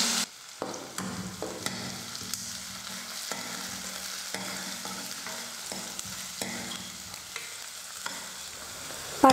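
Chopped onion sizzling steadily in hot oil with curry leaves, with repeated scrapes and clanks of a spoon stirring the pan, close by.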